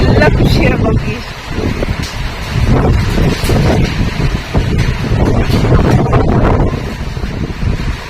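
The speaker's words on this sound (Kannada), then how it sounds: "ಗಾಳಿ ಬೇರೆ ಬರ್ತಾ ಇದೆಯಲ್ಲ" Wind during the year's first rain, blowing in loud gusts that buffet the microphone with a rough, rumbling roar for the full length, surging and easing in waves.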